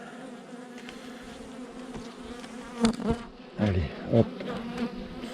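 Honeybees buzz around an open beehive, forming a close, continuous drone while individual bees swoop past louder. A person speaks briefly.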